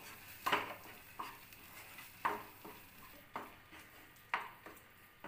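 Masala for paneer makhni being stirred and roasted in a pan: a spoon scrapes the pan in regular strokes about every second or two over a low, steady sizzle, close and fairly quiet.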